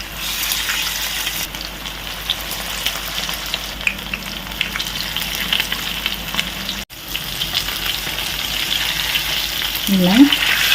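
Fish pieces fry in hot oil with a loud, continuous sizzle and bubbling, with a brief dropout partway through and a faint voice near the end.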